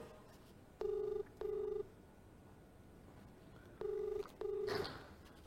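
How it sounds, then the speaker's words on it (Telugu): A telephone ringback tone on an outgoing call sounds in two pairs of short, identical electronic rings, a steady pause between the pairs, faint over a quiet background. "లావణ్య ఫోన్ రింగ్ అవుతోంది."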